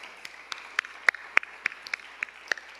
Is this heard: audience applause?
yes